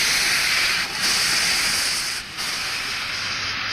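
The N&W 611 steam locomotive hisses steam on a cold morning, a loud, steady rush of hissing that carries on without a break, dipping slightly twice, with no one speaking.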